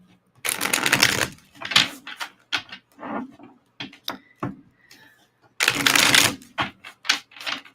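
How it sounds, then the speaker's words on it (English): Tarot cards are shuffled in quick riffling bursts, two long riffles with short taps and flicks between them, close and crisp. "We're going to do a quick shuffle"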